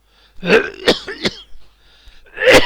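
Several sharp, raspy throat-clearing coughs come in a quick cluster, followed by a pause and one more forceful cough.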